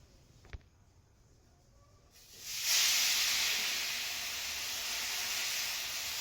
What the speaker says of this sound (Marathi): तेल टाकायचं तव्यावाले ताप तापलं म्हणजे प्रत्येक धपाट्याच्या आधी तेल टाकायचं